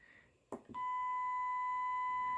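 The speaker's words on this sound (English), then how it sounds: "It's going to beep right now." A short clunk, then a steady electronic beep from an Arduino-built Montréal Metro announcement system begins and holds continuously at one pitch, clear and fairly loud.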